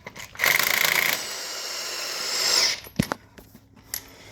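An impact wrench works at the crankshaft pulley center bolt of a 2004 Toyota Sienna, with a loud, close, buzzing burst of under a second, a quieter whirring stretch, then sharp metallic clanks.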